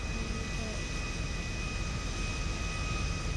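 An airplane taxiing toward the runway in GTA 5 gives a steady, unbroken engine drone with a high whine on top, constant in level throughout, with faint radio voices underneath.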